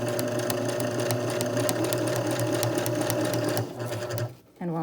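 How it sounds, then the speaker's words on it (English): A sewing machine stitches straight across a fabric face mask with a wire piece held to the side, running as a steady, close, rapid mechanical whir that slows and briefly stops near the end before starting again. "I'm just going to stitch straight across."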